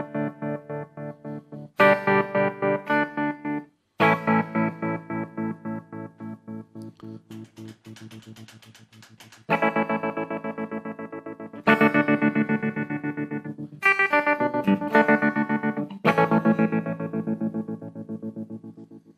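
Guitar run through a modulation pedal with depth turned up and a square-wave shape, giving choppy, pulsing chorus-like tones over sustained chords and picked notes, loud and continuous with effect-heavy warble.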